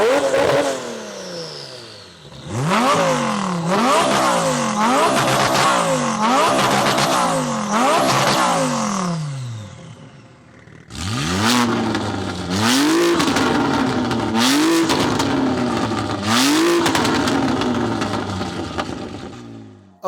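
Three 1000hp modified cars (a BMW M3 Touring, a Turbo S and an Audi R8) rev hard up close. Two loud bursts of repeated, rising and falling engine revs come with a brief lull between them and no talking.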